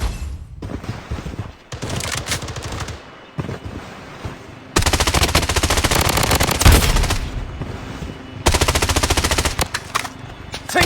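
Automatic MCX and MP5 gunfire rattles loudly in the shooter video game BloodStrike, with sustained bursts and rapid overlapping volleys punctuated by short breaks.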